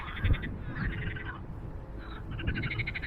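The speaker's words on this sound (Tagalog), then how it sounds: "Maraming palaka." Many frogs croak and trill together outdoors near Minsk, Belarus, in repeated pulsing calls, a steady chorus with a low rumble underneath.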